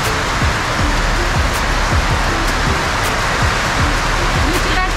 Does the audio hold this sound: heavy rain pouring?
yes